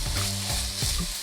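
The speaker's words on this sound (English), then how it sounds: "just added some olive oil in there to cook my vegetables" Onion and celery sizzling in olive oil in a pot over medium heat, a dense, steady crackle with soft stirring sounds, close and fairly loud.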